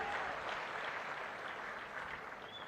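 A crowd at a public stage event with the chief minister present claps steadily in continuous applause, faint and somewhat distant, with no talking over it.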